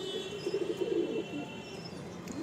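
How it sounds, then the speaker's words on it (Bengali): A female pigeon gives a short series of soft, close coos in a quiet loft, a low burbling phrase that rises and fades within a couple of seconds. "এই হলো মাদি পায়রা"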